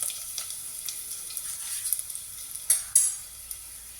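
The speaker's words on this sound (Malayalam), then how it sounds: "ഇനി 3 വറ്റൽമുളക് ചെറുതാക്കിയിട്ട് ഇതിലേക്ക് ഇടുക." Dried red chillies, broken into pieces, sizzle in hot oil in a pan on a large stove, a steady soft crackle with a few sharper pops and stirring clinks near the end.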